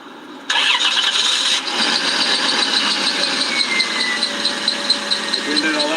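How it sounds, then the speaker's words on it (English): A car engine cranks and catches at about half a second, then settles into a loud, steady idle with a whining tone and small rhythmic pulses, close by, with no one talking. "Here's what my car sounds like"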